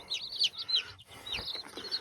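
High, thin peeping from several small Buff Orpington chicks, repeated in quick bursts with a brief pause midway, close by and fairly loud.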